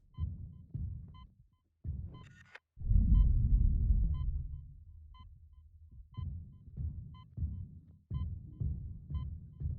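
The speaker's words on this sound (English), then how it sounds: "when you step out into the vacuum of space. All you can hear is your breathing and your heartbeat." Dull muffled heartbeat thumps pulse steadily while a long heavy breath swells in the middle, heard in the airless vacuum of space in the Dead Space Remake horror game.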